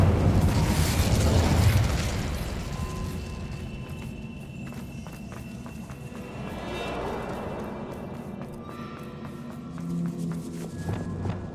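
In the Hogwarts Legacy video game, an Incendio fire spell blasts out as a loud whooshing burst at the start, then fades into crackling fire, scattered footsteps and smaller pops.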